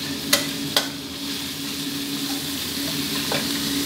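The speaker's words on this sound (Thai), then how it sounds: "พอกระเทียมเริ่มจะเหลืองหอมครับก็หมูสับครับ ผัดกันเลยครับ" Minced pork and garlic stir-fried in a pan: two sharp spatula clacks near the start, then a continuous sizzle with light stirring, close and alone.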